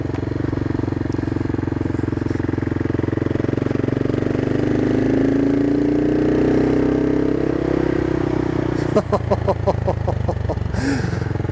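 A CCM Flat Tracker motorcycle engine runs steadily at idle with a low, even throb, its pitch drifting slightly, before a brief burst of rapid clattering pulses near the end.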